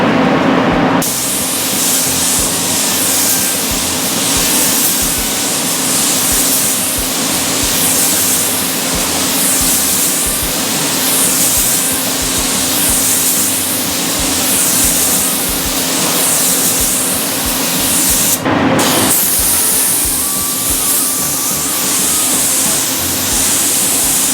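A spray gun hisses continuously and loudly while spraying clear coat, with rhythmic sweeping passes, a brief pause near the end, then spraying resumes.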